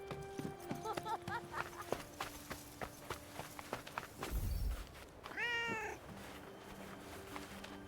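A cat meows in the Forspoken video game, one clear drawn-out meow near the end, preceded by clopping hoof-like footsteps and light game sounds, with a low thud in between.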